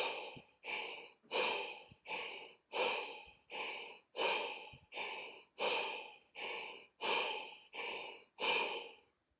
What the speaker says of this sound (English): Once you hear me breathing, get ready to inhale fully.